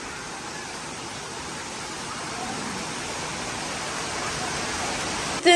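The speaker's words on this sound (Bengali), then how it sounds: "বাইরে খুব সুন্দর একটা ওয়েদার বৃষ্টি পড়ছে" Steady, even hiss of rain falling outdoors, continuous and moderately loud with no pauses, a brief sharp click right at the end.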